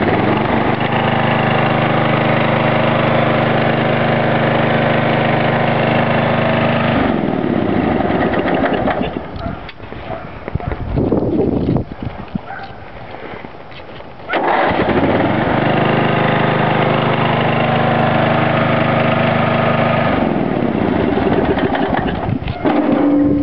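A small engine idles in neutral, a loud steady close rumble that drops away for a few seconds mid-clip and then returns as steady as before.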